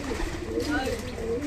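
A male pigeon in a village flock coos in soft, low, throaty warbles, close and continuous over a short stretch, with a faint voice in the background.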